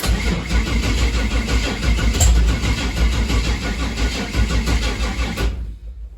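A Chevrolet Nova's engine cranks and catches, running with a rough, loud mid-pitched rumble for several seconds before cutting off abruptly to near silence.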